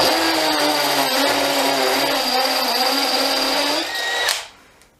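A DeWalt Atomic DCD709 cordless combi drill bores into a hard concrete block with an 8mm DeWalt bit, a loud steady whining grind that runs continuously for about four seconds and then stops.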